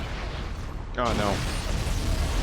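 A grenade blast in the Halo video game bursts in as a loud, dense roar that fills the whole clip, stepping up sharply midway as a voice briefly cries out over the rumble.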